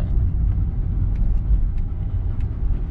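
Honda N-VAN van with a six-speed manual gearbox pulling away from a stop on flat ground, a steady low engine rumble and road drone close by, continuous and fairly loud with no talk.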